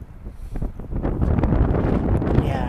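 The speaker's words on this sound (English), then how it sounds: "yeah, it's just really windy right now. It's really, really windy." Strong wind buffets the microphone outdoors with heavy, continuous low rumbling and roaring gusts, close and loud throughout.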